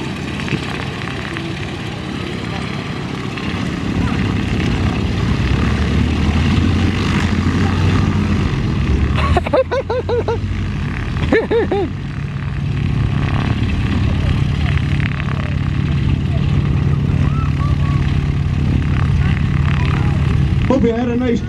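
Stearman and Waco UPF-7 biplanes run their radial engines at a flying circus, a loud, steady propeller drone with a short surge and change partway through, and a voice talks over it throughout.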